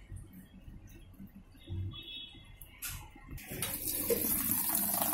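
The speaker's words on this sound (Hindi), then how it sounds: "फिल्टर साफ करने के बाद पानी का प्रेशर थोड़ा बढ़ गया है" Water rushes into a Videocon DIGI Zaara Plus washing machine after its filter has been cleaned. A quiet hum and faint ticks give way to a steady, louder hiss of inflowing water about halfway through.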